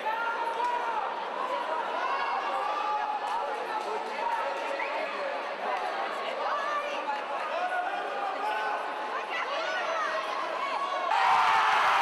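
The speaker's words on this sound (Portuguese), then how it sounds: "A galera vai a delírio, a torcida." Arena crowd at a Muay Thai fight event, a dense wash of chatter and cheering that holds steady throughout and swells louder near the end, with voices talking over it.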